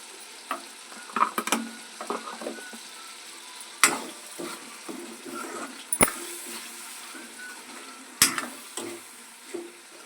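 Amaranth leaves with turmeric fry in a pan, a soft steady sizzle broken by scattered clacks and scrapes of stirring and a few sharp knocks of a utensil against the pan.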